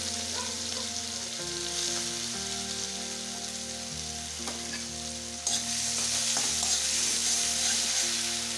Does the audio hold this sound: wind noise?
no